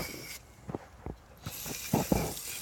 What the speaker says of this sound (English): Now normally what we do is just use a little bit of brake cleaner,